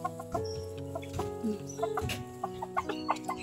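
Backyard chickens cluck in a soft, steady chatter close by, with short rising notes and scattered pecking sounds in a garden.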